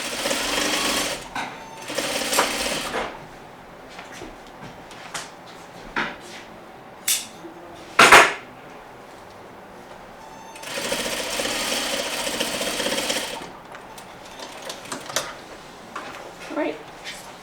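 A home sewing machine stitches a seam on a Parsons chair slip cover in two long steady whirring runs, separated by handling clicks, pin and fabric rustles and a sharp clack, with a person talking in between.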